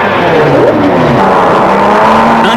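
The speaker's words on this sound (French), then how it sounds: "mais à mesurer le bruit des moteurs" A racing motorcycle engine at the 1989 Jerez Spanish Grand Prix is held at high revs during a pre-practice noise inspection. The loud, continuous engine note wavers and climbs slightly for the full length of the clip.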